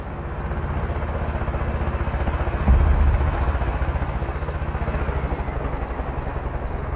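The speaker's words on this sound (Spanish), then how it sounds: "El helicóptero llega justo a tiempo." Helicopter arriving in the video game Far Cry 5, a steady rumbling rotor and engine drone, loud and close, swelling slightly midway, with no talk over it.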